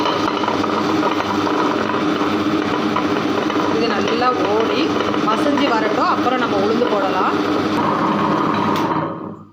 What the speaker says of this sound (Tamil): இப்போ இது எல்லாத்தையும் நம்ம போட்டு அரைச்சிட வேண்டியதான்